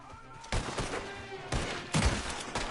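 Gunfire in Red Dead Redemption 2 Online: a few loud separate shot bursts, each with a short ringing tail, spaced about a second apart.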